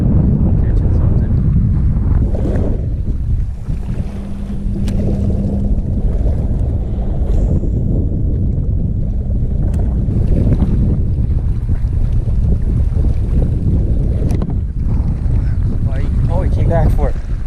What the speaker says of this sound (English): I was just complaining about the wind